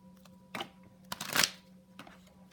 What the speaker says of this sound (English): I'm just going to shuffle a few more times